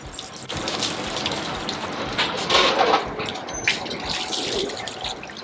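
Water runs steadily from a tap or hose while dogs, Rottweilers and German Shepherds, are bathed, a continuous close splashing wash with brief surges and no talking.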